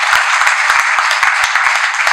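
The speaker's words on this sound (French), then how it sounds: "Elle mérite vos applaudissements." An audience at an event honoring a Congolese woman producer breaks into loud, close applause, a dense burst of many hands clapping continuously for a couple of seconds with faint low thumps underneath.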